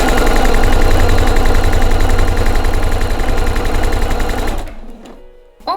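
A sewing machine runs a straight stitch across fabric, a loud steady rapid mechanical chatter close by, then stopping abruptly near the end with a brief clunk.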